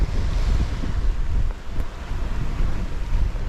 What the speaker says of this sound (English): the bottom of the main is flapping in the wind